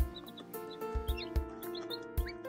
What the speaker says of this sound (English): And 3 little ducks